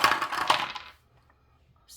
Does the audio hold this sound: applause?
no